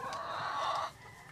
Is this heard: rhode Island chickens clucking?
yes